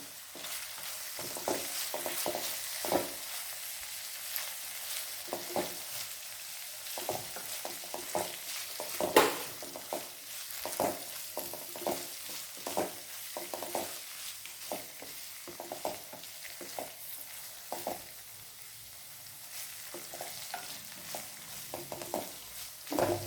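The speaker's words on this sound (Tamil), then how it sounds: "வெங்காயம் பச்சை மிளகாய் எல்லாமே நல்லா வதங்கிடுச்சு." Onions and green chillies with turmeric sautéing in a pan for potato masala, a steady sizzle broken by frequent clinks and scrapes of a spoon stirring, close and moderately loud.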